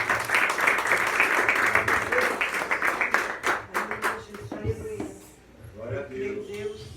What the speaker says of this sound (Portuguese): Você aplaude o Senhor mais uma vez.